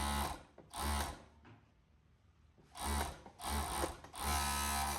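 A sewing machine stitches a shirt hem in loud, close bursts of rapid mechanical whirring, stopping for a pause before starting again in several runs.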